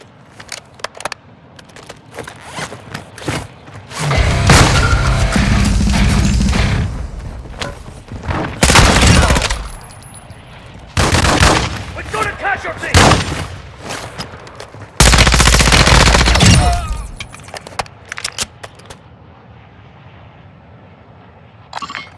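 Bursts of automatic rifle fire and single shots crack through a Call of Duty: Modern Warfare 2 DMZ match, loud and close, in several heavy volleys separated by quieter gaps with scattered clinks and thuds.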